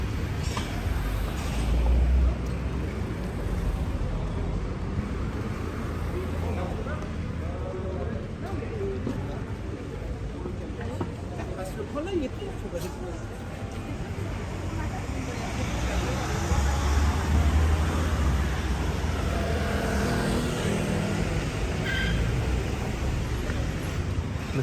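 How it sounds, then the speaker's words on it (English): Cars pass along a small-town street in Menton, France, blending with people talking nearby and general street bustle, swelling a little louder near the end. "A lot of cars in this little town."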